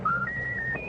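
Raffles, a pet bird, whistles a short melodic phrase, a few clear gliding notes rising in pitch, faint against a quiet indoor background.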